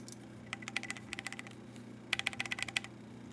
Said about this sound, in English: You can hear all the mouse clicks.